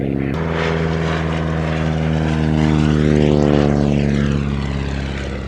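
A vintage 1936 propeller aircraft, one of fourteen built for the Swedish Air Force, flies past at the Shuttleworth air show. Its engine drone is loud and continuous, swelling and shifting in pitch as it passes close by, with no talking.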